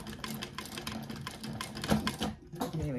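Sewing machine top stitching a bag, a close rapid clatter of needle strokes in short bursts and pauses, with a voice speaking briefly over it.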